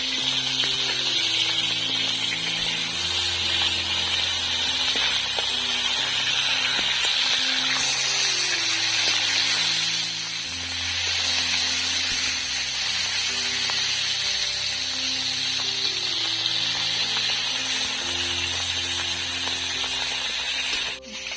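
Mrigal fish frying in oil gives a steady, loud sizzling hiss that runs unbroken throughout, over a low melodic background tune.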